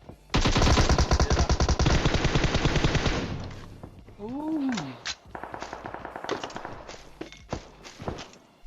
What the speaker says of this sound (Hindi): पीछे कहीं से गोलियां चल रही हैं, वो भी धैड़ पैड़ पूरी जान लगा के